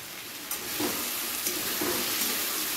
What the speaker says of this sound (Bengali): টমেটোটাকে কিছুক্ষণ ভেজে নেব, মিনিট 3 মতো, যাতে টমেটোর কাঁচা গন্ধটা চলে যায়।